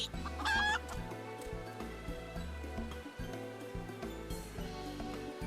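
Chickens clucking and a rooster crowing in the video game Final Fantasy XIV during a seasonal event, repeated clucks in a busy rhythm over game music, one sharp crow near the start.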